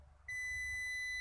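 A multimeter used as a continuity tester sounds a sudden, steady, high electronic beep that starts abruptly and holds without a break, with no talking.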